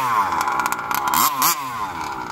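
A small high-pitched gas engine in a Losi 5T RC truck buzzes and revs in short bursts, rising and falling sharply, close and loud.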